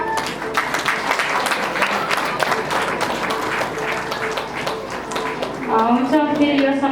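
Guests at a Nepali Christian wedding applaud, a steady patter of many hands clapping at moderate distance while a voice speaks over it.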